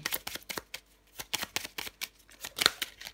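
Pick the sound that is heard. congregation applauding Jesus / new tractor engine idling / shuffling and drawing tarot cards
shuffling and drawing tarot cards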